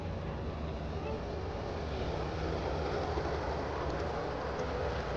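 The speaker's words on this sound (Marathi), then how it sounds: "हाय चूचू ट्रेन" A miniature model train runs at Madurodam in The Hague, giving a soft, steady rolling hiss that stays faint and distant under outdoor ambience, with brief voices nearby.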